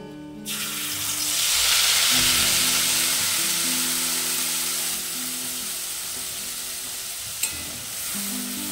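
Homemade spice paste goes into hot oil, which already holds bay leaf, for a milk paneer curry. A loud hiss bursts out and then settles into a steady sizzling fry. A tonal hum runs beneath it, with one brief clink near the end. No talking.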